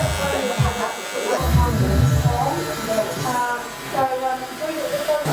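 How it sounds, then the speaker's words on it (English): Mini hair clippers buzz steadily while trimming the temple area to sharpen a fade hairline, the electric hum continuous and close, with a person talking over it. "Just working my mini clippers up into my 0."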